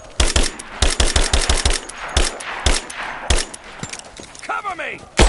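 Rapid video-game gunfire from Rise of the Tomb Raider rattles in dense, loud bursts of automatic shots that come and go, while a voice shouts briefly near the end.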